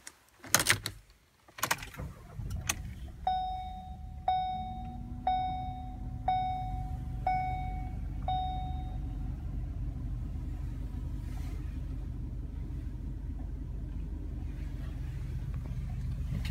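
2016 Ford Focus SE with a 1.0L EcoBoost engine starting: a couple of sharp clunks, a series of evenly spaced chimes, then the engine catches and settles into a steady low idle rumble, with no talking.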